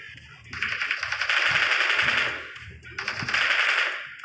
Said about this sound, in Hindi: इसके टीममेट आगे वाली बिल्डिंग से हमको क्रॉस फायर में मार रहे थे खिड़कियों से